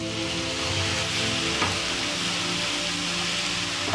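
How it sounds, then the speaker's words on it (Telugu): Red gram dal fries in oil in a pan, a loud, continuous close sizzle with a low steady hum underneath and a single sharp clink partway through. "ఈ పప్పులో నీరు ఆవిరైపోయే వరకు ఆయిల్లో ఫ్రై చేసుకుందాం"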